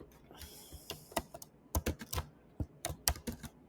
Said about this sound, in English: I'm just typing the exact same